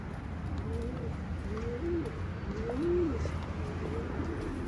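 Pigeons coo in soft, repeated low calls near a loft, several distinct coos spaced over a few seconds above a steady background hum.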